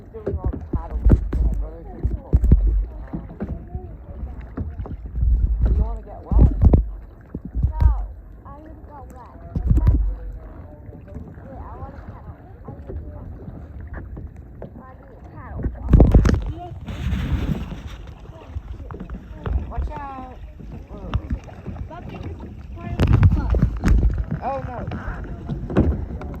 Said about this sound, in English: Right now I'm doing all the paddling.